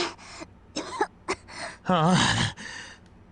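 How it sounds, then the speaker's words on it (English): Three characters pant and gasp heavily after escaping a laboratory in the game Zero Escape 999, a series of short breathy bursts closing in a longer voiced gasp, close and fairly loud. "All three collapsed against the wall, breathing heavily."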